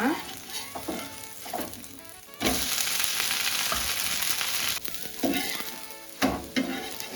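Tora leaf dosa frying on a hot pan after being flipped, a steady close sizzle that swells loud and bright, broken by a few short scraping stirs and clatters, with no talking.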